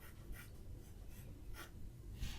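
Pencil sketching on paper while drawing the Iron Man Zero skin from Fortnite, faint quick scratchy strokes repeating in short bursts, close and quiet.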